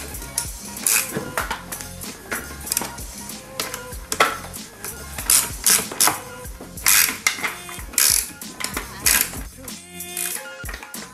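Metal tool clicks and clinks while a 5 mm Allen key tightens screws during assembly of a Pocket Cross 49cc Falcon mini motorbike, rapid irregular ratcheting taps at close range, with occasional speech.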